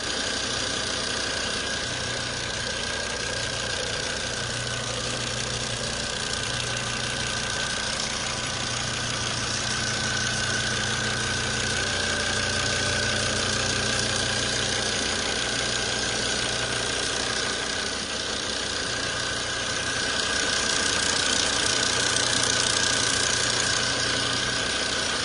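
A car engine runs steadily in a Copart vehicle condition report, a loud continuous idle with a low rhythmic pulse and broad mechanical hiss, no talking.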